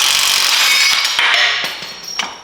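A bolt worked loose from an engine mount bracket under a car hood, a loud hissing, grinding wrench or power tool noise at close range with a few metallic knocks as it stops.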